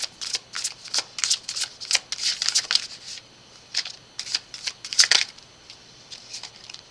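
Tarot cards shuffled close by, quick papery flicks and riffles in irregular clusters with short pauses, crisp and distinct with no voices.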